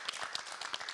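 Audience applause at a youth employment forum, a brief patter of clapping hands, fairly quiet and steady.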